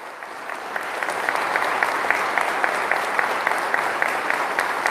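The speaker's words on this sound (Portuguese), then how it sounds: "Aplauda Nossa Senhora, que isso é extraordinário." A church congregation applauds together during a Catholic sermon on Our Lady of Fátima, a steady dense wash of clapping that holds loud and even for the whole stretch, with a few sharper individual claps standing out.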